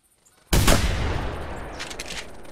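Volley of shotgun blasts at flying birds in theHunter hunting game: after a quiet start, a loud sudden report with a long rolling tail, followed by further quicker shots near the end.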